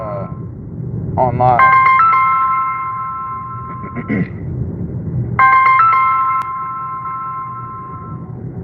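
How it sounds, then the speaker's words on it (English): A synthetic phone ringtone plays two bursts of bright stepped tones outdoors in a park, with someone talking over the rings throughout. "The phone's ringing."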